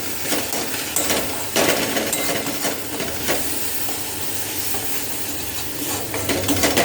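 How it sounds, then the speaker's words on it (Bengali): Water hits hot fried spices in a kadai while cooking chana dal and boils at once into a loud, dense hissing sizzle with bubbling. Scraping stirs run through it, heard close and continuously. "ফুটেই গেল জলটা দেওয়ার সঙ্গে সঙ্গে।"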